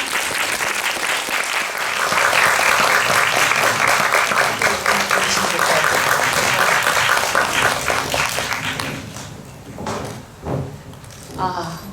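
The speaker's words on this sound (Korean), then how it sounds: "여러분들 큰 박수 주시면 배우분들 그리고 감독님 자리해 주시겠습니다. 박수 부탁드립니다." A theater audience at a film screening Q&A at a cinema applauds to welcome the actors and director, with loud, dense clapping sustained for about eight seconds before fading into scattered claps and faint movement.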